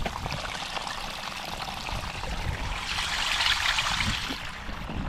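Water pouring and trickling steadily through holes drilled in a drainage riser, a close rushing stream that grows slightly louder toward the end.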